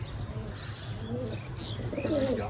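Racing pigeons, dyed for a tournament and flying high overhead, give soft coos and chirps that sit faintly over a steady outdoor background hum.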